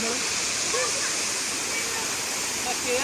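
A waterfall roars steadily and loudly, a dense continuous rush of water with no pauses.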